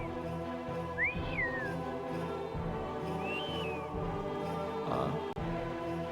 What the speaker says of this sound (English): Casual whistling.